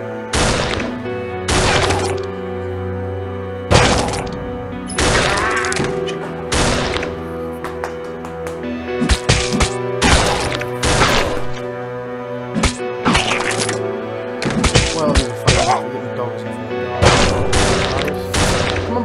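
Barrels being smashed and demolished in the zombie game Dead Ahead Zombie Warfare, a loud irregular series of sharp cracking impacts and thuds over steady game music, some hits spaced apart and others clustered in quick bursts.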